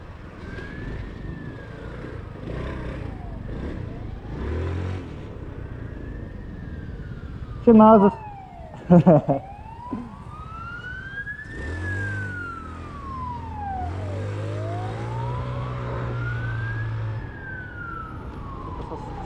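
An ambulance siren wails in rising and falling sweeps in city traffic, heard from inside a car, with engine hum underneath, a couple of sharp knocks and a brief shouted word.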